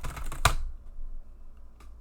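Quick burst of keystrokes on a computer keyboard, clicking densely for half a second, ending in one sharp louder key hit, then near silence and a single faint tap.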